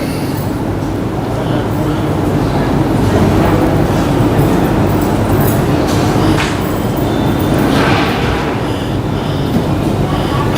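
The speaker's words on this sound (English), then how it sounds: "there's noise coming in from that air conditioning, is it? It's terrible. Sounds like a railway station." Steady broadband roar of air conditioning noise drifting in through an open door, loud and continuous throughout, like a railway station din, with a faint voice now and then underneath.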